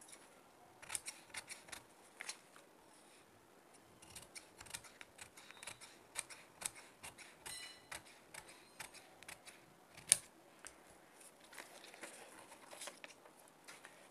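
Scissors snip through cloth while cutting a blouse sleeve pattern, giving quiet, close, irregular clicks and crisp snips in quick bursts over near silence.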